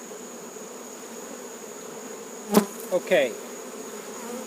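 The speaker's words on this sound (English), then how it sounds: "Boy, there's a lot of bees in there." Honeybees from an opened hive fitted with beetle blocker shims buzz in a faint, steady drone, with a few brief louder bumps and scrapes near the end as the hive parts are handled; one short word is spoken.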